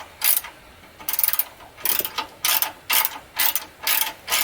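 A ratchet wrench clicks in repeated short bursts while a bolt is tightened during a brake job on a 1999 Ford Expedition, loud and close with a steady rhythm.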